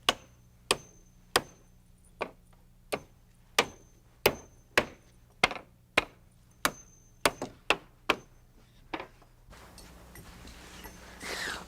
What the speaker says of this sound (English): I start at the bottom by nailing on the first riser with 8-penny nails